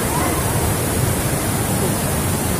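Roaring monsoon torrent at the second tier of Khoiyachora waterfall, a dense, steady rush of falling water close by that fills the whole stretch without a break.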